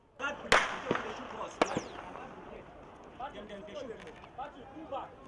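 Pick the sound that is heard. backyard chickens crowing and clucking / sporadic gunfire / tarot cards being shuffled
sporadic gunfire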